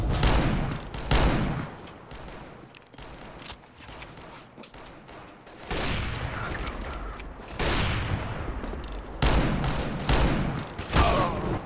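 Revolver fire and other gunshots in the video game CS:GO, the R8 Revolver among them, heard as repeated sharp bursts and volleys spread across the clip, with dense overlapping shots at moderate loudness and no talking.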